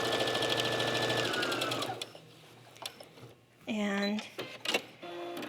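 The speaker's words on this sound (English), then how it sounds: "that is just easily done with some straight stitching right on top. And again, I'm just putting it right back under the machine." A sewing machine straight-stitching fabric wing ribs onto shoes runs in a steady, close whirring burst for about two seconds, then stops; someone talks over the quieter stretch that follows.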